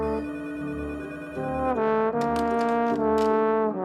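A phone ringtone plays a repeating electronic melody, loud and close, with no voices.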